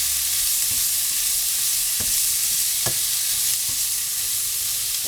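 Turkey sausage browns in a pan with a steady, close sizzle, broken by a few soft scrapes and taps from stirring.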